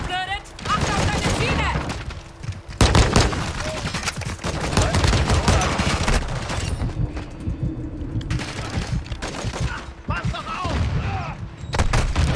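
Rapid pistol fire in a Call of Duty: Modern Warfare II multiplayer match cracks out in dense, fast volleys over nearly the whole stretch, loud and close, with other battlefield noise and a few brief pauses.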